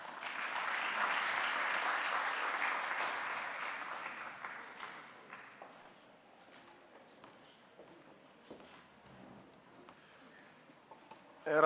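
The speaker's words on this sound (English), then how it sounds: "A round of applause once more for the MEC" Audience applause at a conference, a dense round of clapping that swells for several seconds and then thins out to scattered claps and room noise before a sharp sound at the very end.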